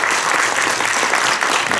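A roomful of people clapping in thanks after a lecture at a report meeting, continuous close applause filling the whole stretch.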